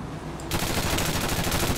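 Automatic AK rifle fire in a video game erupts suddenly after a brief quiet moment, then pours out as a loud, dense, rapid burst that continues to the end.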